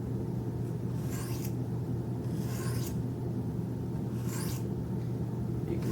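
Finishing strokes on a 1000 grit stone of a Wicked Edge knife sharpener, a few soft scraping swipes about a second apart over a steady low background hum, close and without talk.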